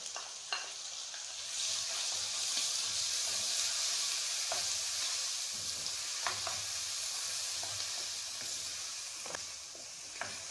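Chopped onion sizzles with chicken in a pan for a peas and meat curry, a steady frying hiss punctuated by several sharp stirring clacks, with no voices.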